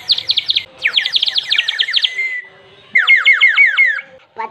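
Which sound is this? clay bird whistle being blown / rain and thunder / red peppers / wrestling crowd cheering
clay bird whistle being blown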